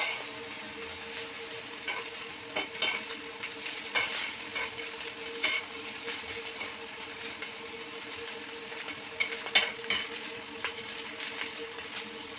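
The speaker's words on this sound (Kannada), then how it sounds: "ಪನ್ನೀರ್ ಫ್ರೈ ಆಗ್ತದೆ" Paneer frying in a pan with oil over a gas flame, a steady soft sizzle under repeated scraping strokes of a spoon stirring, with no talking.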